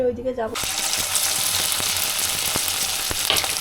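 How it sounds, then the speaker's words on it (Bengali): Egg-dipped bhetki fish fillets deep-frying in hot oil erupt into a loud, dense, continuous sizzle with faint pops. A brief voice is heard just before the frying noise takes over. "তেলের মধ্যে এবার ছাকা তেলে ভাজা হচ্ছে ডিমের মধ্যে দিয়ে"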